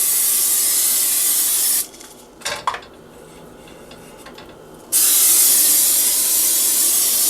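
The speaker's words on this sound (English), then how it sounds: "We're going to hit it with a little non-stick spray." Non-stick cooking spray hisses onto a 9x13 baking pan in short bursts, close and loud, separated by a quieter stretch with light metallic clinks of the pan being handled.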